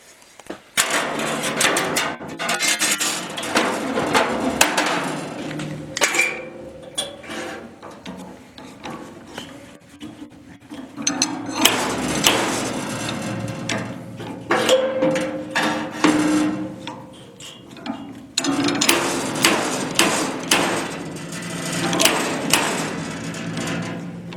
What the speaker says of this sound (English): we're going to hook up the little slide hammer and pull that out until it's straight